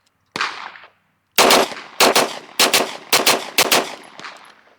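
Ten rounds fired from a Glock Gen 3 pistol fitted with an aftermarket trigger: one shot, a pause, then a fast run of sharp, loud reports in quick succession with ringing tails, no talking.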